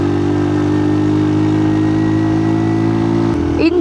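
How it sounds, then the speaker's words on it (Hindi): A motorcycle engine labouring in low gear up the steep Khurjarat pass climb near Leepa valley, a loud, close, steady drone with a deep throb, shifting in pitch near the end as the load changes. "मैं तो तीसरा गियर लगा लूँ बाइक मर जाती है।"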